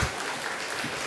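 Applause from a church congregation during a Sunday service, a dense, even wash of many hands clapping at once, fairly loud and steady throughout, with no speech on top.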